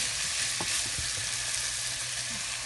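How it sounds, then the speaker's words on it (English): Cucumbers stir-frying in a hot pan for Thai sweet and sour vegetables, a dense, close sizzle with a few soft spatula knocks and scrapes, and no voices. "just gonna stir fry it a little bit"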